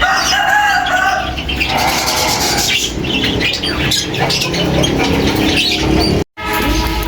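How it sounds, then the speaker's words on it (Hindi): Parrots squawk loudly and continuously at close range as they come down to eat bird feed at dawn, their harsh cries mixed with fluttering wings, with a brief silent gap near the end. "आहिस्ता आहिस्ता तोते आपको पता है थोड़ा डरते हैं, आहिस्ता आहिस्ता उतर के आते जा रहे हैं"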